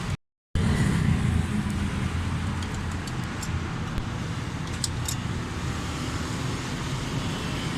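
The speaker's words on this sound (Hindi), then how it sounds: "गाड़ी स्टार्ट है, बिल्कुल स्मूथ स्टिल साउंड है" A 2008 Honda City automatic idles smoothly with a steady, even engine drone and no misfire, continuous after a brief silent gap at the start.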